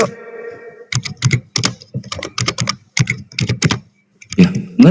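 Rapid typing on a computer keyboard clatters close by in quick bursts of keystrokes with short pauses between them, starting after a brief tonal sound and with no voices.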